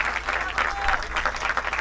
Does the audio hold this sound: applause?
yes